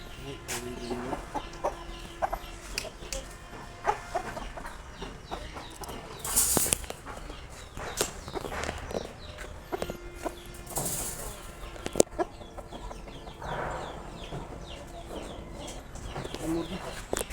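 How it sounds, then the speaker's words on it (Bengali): Chickens on a farm cluck and call intermittently at moderate distance, with a few sharper squawks and some background noise, while a person talks at times. "অনেক হাই রেঞ্জের মুরগি"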